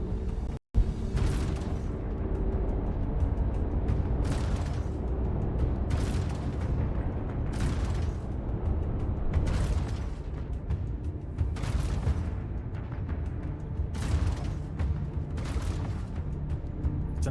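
In Star Citizen, rounds strike a ship and explode in a rapid series of booming blasts, roughly one every second or two, over a constant low engine rumble, loud and close with no voices.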